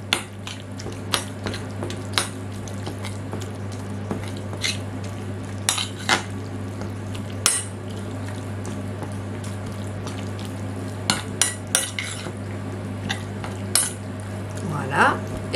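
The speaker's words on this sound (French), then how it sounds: "Je mélange." A spoon repeatedly scrapes and taps against a bowl while mixing a fresh cheese and tuna filling for samosas, giving irregular clinks and soft squelching over a steady low hum, close by with no voices.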